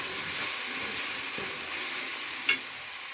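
Thajaku soppu greens frying in a hot pan, giving a loud, even, close hiss of sizzling steam that carries on unbroken, with one brief clink partway through.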